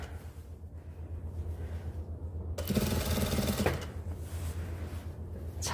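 A sewing machine stitching a seam on fabric for a dress, a steady fast mechanical whir lasting about a second alone over a low room hum.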